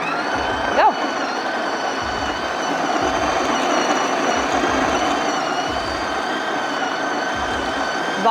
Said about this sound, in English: It's hands-free grinding, which is great.